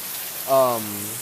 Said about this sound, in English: it is raining like I've never seen rain before